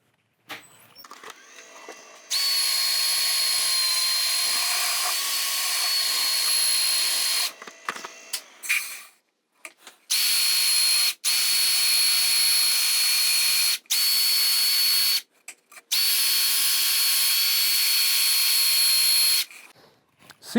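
A power sander with 120 grit runs against a burned wooden bowl, a steady high whine in long bursts that stop and restart several times, with short quiet gaps and clicks between runs.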